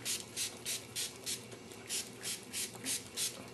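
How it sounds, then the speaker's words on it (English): An odor eliminator is sprayed onto a cloth soaked with cigar smoke in about ten quick, evenly spaced hissing mist bursts, close and fairly quiet, with no talking. "I'm just gonna spray it on this product with this cloth right here"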